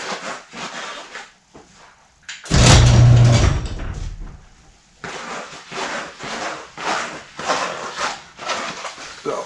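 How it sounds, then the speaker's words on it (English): A garage door opens just a little with a loud mechanical rumble and scrape lasting a couple of seconds, preceded and followed by lighter clunks and rattling from handling nearby. "Open the garage door just a tad."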